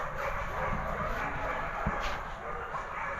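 A dog barks a few times on a beach resort at Bucana, Nasugbu, Batangas, brief yips over steady background noise with some people talking nearby.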